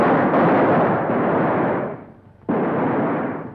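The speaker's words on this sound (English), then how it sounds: "They're just shooting around people to scare them." Gunfire from a 1935 western shot around frightened townspeople, a dense, continuous roar of overlapping shots that sags briefly and then surges back loud.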